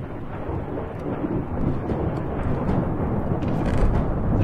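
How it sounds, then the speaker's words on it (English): Rolling thunder in a Minecraft RLcraft modpack world, a deep continuous rumble under rain that swells louder toward the end, with no voices. "that thunder better stop"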